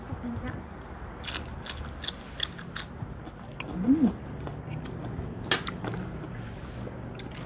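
Someone eats a spicy Thai salad by hand, making quiet, intermittent chewing and biting clicks scattered over a soft background, with no talking.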